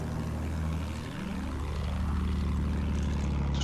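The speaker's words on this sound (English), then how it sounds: "Friendly plane." Propeller plane droning overhead in Battlefield 1, a steady loud engine hum with a rising and falling pitch sweep as it passes, continuous across the whole stretch.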